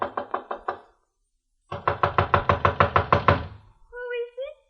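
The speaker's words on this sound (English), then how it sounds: "I walked up the narrow awning-covered gangplank that led to the little deck and knocked at the door" Knocks on a houseboat door reached by a narrow awning-covered gangplank: a short burst of five raps, a pause, then a longer run of about ten firm knocks, followed by a brief voice.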